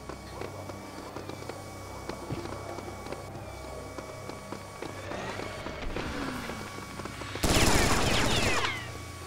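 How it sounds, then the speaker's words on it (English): Gun turret fire in Serious Sam 3, a loud dense burst of rapid shots erupting near the end over a busy game soundscape with scattered smaller impacts. "Is that another turret around the corner?"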